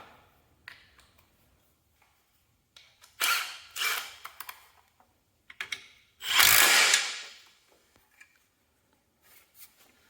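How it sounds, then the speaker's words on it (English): Bolts being tightened on a Cub Cadet steering box with a hand tool, giving a few short bursts of ratcheting clicks and mechanical clatter separated by quiet pauses, close by with no talking. "Now she's self-centered, so we're going to tighten that up."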